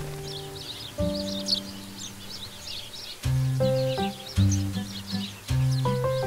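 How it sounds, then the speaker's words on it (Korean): A flock of sparrows chirps constantly while feeding on grain in a snowy winter garden. The busy, overlapping twitters go on throughout, under sustained low musical tones that rise and fall in loudness. "온몸으로 추위를 견디며 눈 때문에 먹이조차 찾을 수 없는 참새들"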